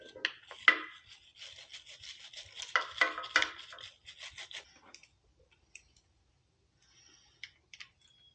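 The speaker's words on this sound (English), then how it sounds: "I'll just give her a quick brushing" Quick brushing around the oil filter of a Kawasaki KLR motorcycle, a run of dry scratchy bristle strokes for about five seconds, then near silence broken by a few faint clicks.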